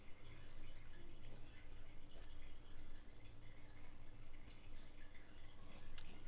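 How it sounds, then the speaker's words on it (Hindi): Water is poured into a pan of peas and potato curry, a continuous low splashing and dribbling that stays even and faint for several seconds, with no speech. "और थोड़ा सा इसके अंदर पानी ऐड कर देते हैं ताकि अच्छे से ये जो है मिक्स हो जाए"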